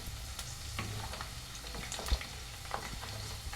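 Mustard seeds, spices and curry leaves tempering in hot oil for tomato pachadi give a steady, close sizzle and crackle with a few sharper pops, with no voices over it.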